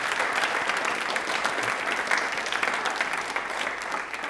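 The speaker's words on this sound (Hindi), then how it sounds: "एक बार तालियां हमारे सभी जितने भी आर्म फोर्सेज के लिए बजा दीजिए।" Audience applause for the armed forces during a televised quiz show, dense continuous clapping from a sizeable crowd holding a fairly even level throughout.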